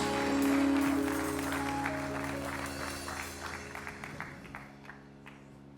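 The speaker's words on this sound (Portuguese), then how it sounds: "Aplauda Ele bem forte." A church congregation claps, scattered clapping rising and fading while sustained keyboard chords hold in the background.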